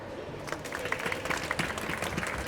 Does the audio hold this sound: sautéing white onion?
no